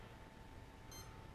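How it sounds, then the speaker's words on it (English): A short high electronic beep from an Align T-Rex 150 DFC RC helicopter's battery protection setting, one faint brief tone over a steady low hum. "That's the battery protection beep."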